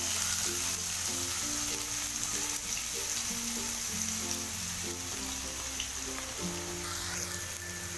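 Onions sizzle steadily in half a cup of hot oil as the base for brain (maghaz) masala, a continuous close crackling hiss that stays even throughout, with no talking.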